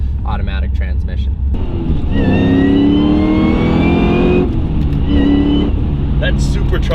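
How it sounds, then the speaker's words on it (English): A 1000 hp Cadillac CTS-V with a supercharger and Cook's exhaust revs loudly up close, its high supercharger whine rising over the deep exhaust note, while a voice speaks over the engine. "That supercharger whine is awesome."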